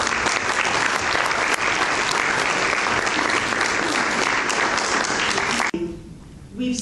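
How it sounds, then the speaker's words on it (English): An audience applauds Ambassador Meera Shankar as she comes to the podium at an MIT-India program address. The clapping is dense and loud, sustained for nearly six seconds, then drops off abruptly into quieter room sound with a voice starting. "a nice round of applause"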